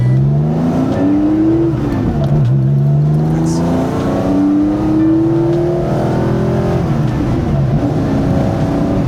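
A 1972 Porsche 911 ST engine revving hard and close, its tone rising and dipping through several climbs toward the upper revs, loud and continuous with no talk.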